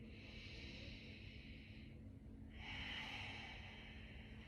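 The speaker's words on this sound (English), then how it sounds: "Take one more deep breath here" A deep breath during a yoga class: a long, close, airy inhale, a short pause, then a slow, rushing exhale, soft and steady with no talking.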